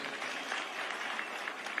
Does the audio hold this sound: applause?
yes